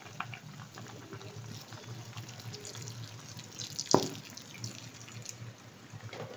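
Pasta sauce with a bay leaf simmering in a pan, a soft continuous bubbling and low hiss with a single sharp clink midway, fairly quiet and steady.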